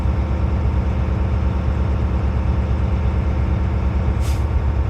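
Truck idling with a steady low engine rumble throughout, then near the end a short sharp hiss of air as the air brake governor cuts off, close and loud with no talking.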